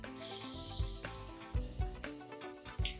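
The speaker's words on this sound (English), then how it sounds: "You can see that the poha cutlets have been fried nicely." Poha cutlets fry in hot oil in a pan, a soft continuous sizzle broken by a few faint knocks and clinks of utensils, quiet and close.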